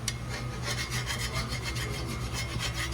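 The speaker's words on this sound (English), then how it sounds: "File this back down, make sure it's, you know, flush" Steady rhythmic rasping of a file scraping back and forth over a metal wheel hub surface on a Ford Explorer, close and continuous for a few seconds with a low hum underneath.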